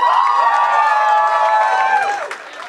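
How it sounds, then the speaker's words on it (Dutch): Studio audience at a Dutch TV panel show applauding and cheering loudly, a dense burst of clapping with whoops and shouts that holds steady and then fades toward the end. "Patrick Joris, even een applaus."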